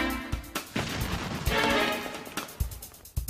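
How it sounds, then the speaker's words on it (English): A cannon firing cannonballs similar in size to those used at the Alamo at a test wall, heard as a series of sharp, heavy booms and crashing impacts in quick succession, loud and close. "cannonballs, close to the size used by Santa Anna at the Alamo, will be fired at the test wall"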